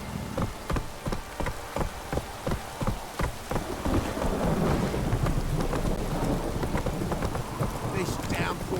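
In The Witcher 3, a thunderstorm with heavy rain: sharp rhythmic thuds lead into a long rumbling roll of thunder over a constant hiss of downpour, with a voice speaking near the end.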